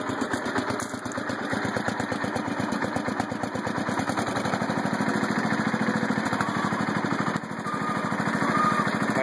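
A Massey Ferguson 14 garden tractor fitted with a front-mounted Simplicity plow runs steadily nearby, its small engine giving a continuous rapid chugging pulse at an even, loud level throughout.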